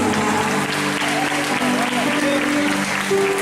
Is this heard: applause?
yes